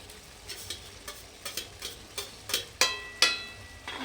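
Potatoes go into eggplant frying in a pan, with a steady sizzle and a series of sharp spatula taps and scrapes that grow louder toward the end.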